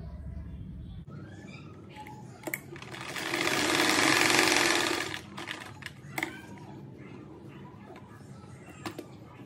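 Sewing machine stitching small fabric scraps together for a rug, a steady whirring burst of about two seconds in the middle, close and fairly loud, set between quieter handling noises and soft clicks.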